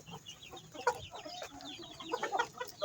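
Native crossbreed hens, one black with a gold neck, cluck softly and irregularly inside a chicken coop built from scrap wood, with scattered short calls close by and nobody speaking.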